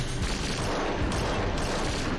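Sustained, dense gunfire fills a scene from The Walking Dead, a continuous loud barrage of overlapping shots with no pause and no voices.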